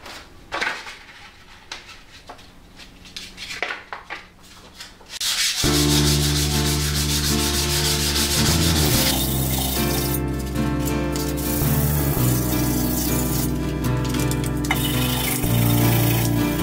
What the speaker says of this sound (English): 600 grit, wrap it around a file